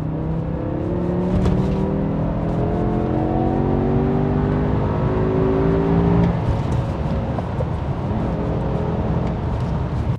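A BMW E60 M5 with its V10 engine in M mode pulls hard from inside the cabin, a loud rising howl that climbs through the revs, shifts, then keeps pulling under steady road noise.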